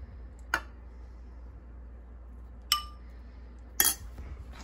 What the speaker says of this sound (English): So I'm gonna take a scoopful of rice and just put that in my bowl.